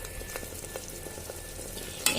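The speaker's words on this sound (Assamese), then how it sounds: "এতিয়া ভালকৈ এইখিনি অলপ ভাজি ল'ম, আধা মিনিট সময় আৰু বেছি নহয়।" Turmeric-marinated chicken pieces with onion frying in a pan, giving a soft, steady sizzle with light stirring scrapes and a sharper clatter just at the end.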